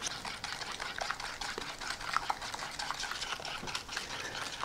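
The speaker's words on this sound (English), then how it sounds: "All right, we're just gonna whisk for a while." A whisk beats cake batter with a cup of sugar in a bowl, making close, rapid, steady scraping strokes that continue throughout.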